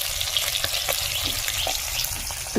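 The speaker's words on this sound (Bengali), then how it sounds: "এদিকে মৌটি মাছ, চিংড়ি মাছগুলো ভেজে নিচ্ছি" Mourala fish and prawns frying in a pan, a dense, close, even sizzle with faint crackles scattered throughout and no talk.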